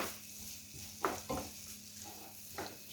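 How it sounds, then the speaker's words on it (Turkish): Peppers sizzling in a pan with a few scraping stir strokes, steady frying hiss underneath and occasional louder clatters. "Kavrulan biberlerimiz üzerine doğranmış mantarlarımızı hemen ilave ediyoruz"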